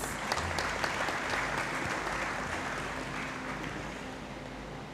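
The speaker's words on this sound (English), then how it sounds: "he deserves another big round of applause" A hall audience at a university graduation congregation in the Great Hall applauds steadily, a dense continuous wash of clapping, fairly distant and even throughout.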